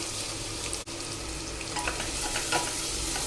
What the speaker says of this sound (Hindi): सबसे पहले प्याज को फ्राई कर ले रहे हैं